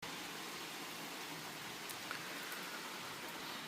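Steady rain falling on a June day, a constant soft hiss of drops with a few faint ticks, heard alone at low level with no voices.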